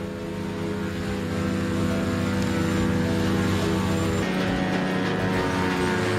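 A large wood chipper's CAT C27 800-horsepower engine drones steadily and loudly throughout, a deep continuous rumble with a constant mechanical hum and no pauses.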